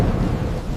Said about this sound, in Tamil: மழை அதிகமா இருக்கே